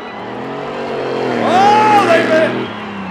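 A roaring Ford Mustang engine swells and revs higher, with a rising whine as it accelerates close by in a spectator drag race against a truck at a speedway, then the roar eases off.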